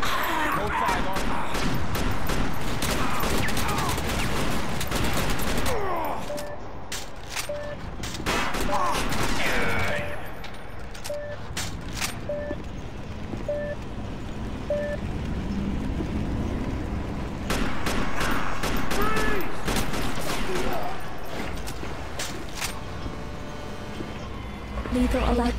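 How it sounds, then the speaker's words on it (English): Gunfire and combat noise in the first-person shooter video game TimeShift, with dense bursts of shots and mechanical clatter over loud continuous game sound, mixed with in-game voices. "Shots fired."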